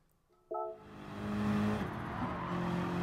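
A race car in the GT Sport video game pulls hard up a hill at the Nurburgring Nordschleife, its engine note rising steadily and loud after a sharp shift blip, with faint tire noise underneath.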